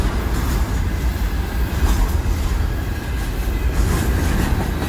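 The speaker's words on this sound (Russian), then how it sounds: "Большой длинный локомотив" Long freight train pulled by a big locomotive, with container-laden extended flatcars, rolling through Tyumen station and picking up speed, a loud continuous rumble with steady wheel clatter and no talk.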